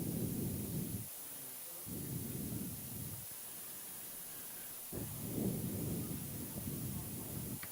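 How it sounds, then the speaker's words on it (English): Rain falls at a high school football game between the Scotties and the Raiders. Hissing gusts of rain noise come in uneven bursts with brief lulls between them. "Rain is a falling,"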